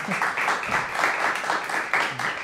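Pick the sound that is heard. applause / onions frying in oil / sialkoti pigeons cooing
applause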